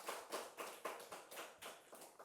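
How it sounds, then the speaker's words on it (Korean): A church congregation clapping in encouragement: quiet, rhythmic bursts of claps about twice a second, soft and somewhat distant, with no talking over them. "잘하셨습니다. 박수 쳤습니다."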